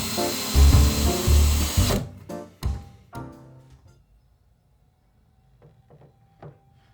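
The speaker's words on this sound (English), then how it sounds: "I use the countersink bit to drill holes in the cleats I temporarily tacked in place" A power drill with a countersink bit boring holes through wooden French cleats tacked to a garage wall, running in a loud burst for about two seconds, then a few short knocks and clatters fading to near quiet.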